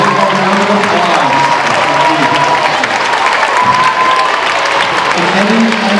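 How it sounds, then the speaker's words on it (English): A school audience at a Veterans Day musical salute gives veterans another round of applause, the clapping loud, dense and continuous from up close, with some crowd murmur and sustained tones underneath. "Let's give our veterans one more round of applause."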